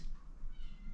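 A domestic cat meows once, short and fairly faint, indoors in a quiet room with no talk.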